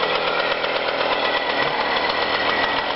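A small Jawa motorcycle engine runs steadily at high revs, a loud buzzing drone with a rattling two-stroke edge and no pauses.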